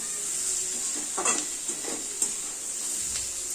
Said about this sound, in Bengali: এটা ভালোভাবে নাড়িয়ে আবার কষাবো